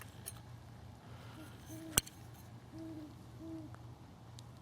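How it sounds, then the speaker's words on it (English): Several soft, low hoots from a big owl drift through a quiet outdoor camp, a few short calls spaced apart over faint background hiss, with one sharp click partway through. "Got a big owl over here."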